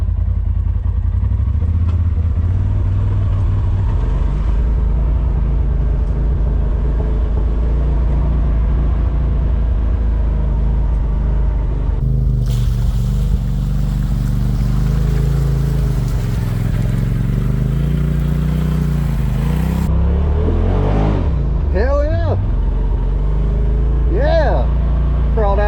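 Polaris RZR side-by-side crawling through a ditch in low range, its engine droning loudly and steadily with clattering and revving swells, while people talk over it.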